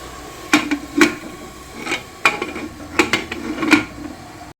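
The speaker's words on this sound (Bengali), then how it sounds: "চলো এবার ঢাকাটা দিয়ে দিই" A pressure cooker lid being fitted, heard as a run of sharp metallic clanks and knocks at uneven intervals, close and fairly loud, with no talking.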